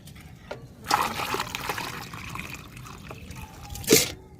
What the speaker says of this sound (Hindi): इसमें हम आधे से ज़्यादा पानी मिलाएंगे।